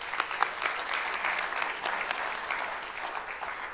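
A crowd claps steadily, dense overlapping applause from many hands at a moderate distance, sustained throughout.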